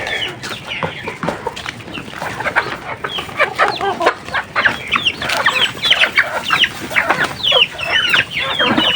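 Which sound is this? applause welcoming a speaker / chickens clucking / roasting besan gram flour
chickens clucking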